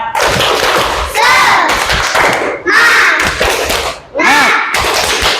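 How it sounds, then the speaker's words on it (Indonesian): A class of children performs the 'tepuk semangat' rhythmic clap, sharp hand claps coming in patterned bursts with short pauses between them, while young voices chant along close by. "sekarang kita tepuk semangat dulu sama-sama. Ayo, tepuk semangat."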